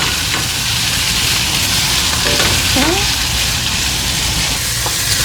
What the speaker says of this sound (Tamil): ஓகே, ஒனியன் எல்லாம் நல்லா அந்த ஒரு கோல்டன் கலரில் நல்லா ஃப்ரை பண்ணி விடுகிறோம் மசாலாவுக்கு.